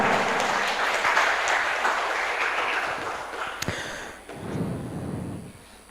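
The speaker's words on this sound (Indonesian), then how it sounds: "Sekali lagi kita beri aplaus yang meriah untuk para peserta" Audience applause for debate participants at a high school Indonesian-language debate final, a dense wash of clapping that fades out partway through, followed by a shorter, softer burst of crowd noise.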